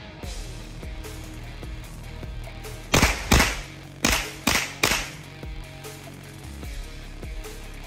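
Springfield Armory Saint Victor rifle fired outdoors, a run of five sharp, loud reports spaced about a second apart, each trailing a short echo, with quieter clatter before and after.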